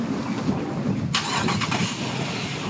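A truck engine turns over and catches close by, with a short burst of cranking at a windy lakeside marina, set against a constant roar of wind.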